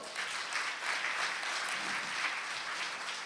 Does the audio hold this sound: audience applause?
yes